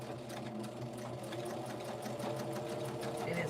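A sewing machine runs a back stitch, giving a quiet, continuous, evenly paced mechanical hum of needle strokes that holds steady from start to end.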